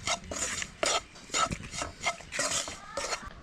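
A spoon scrapes and clinks through spice powders in a pan over a low flame for a gooseberry pickle, a series of short, irregular stirring strokes close by with no sizzle to speak of.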